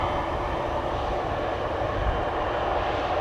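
An airliner departing Amsterdam Schiphol Airport on the north-south runways gives a steady, loud, broad jet roar with a deep rumble that holds evenly throughout, with no voices.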